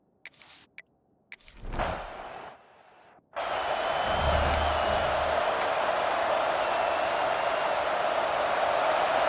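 Football stadium crowd at a Dallas Tech home game roars and cheers loudly and steadily after a brief lull, a dense sustained wash of many voices filling the stands.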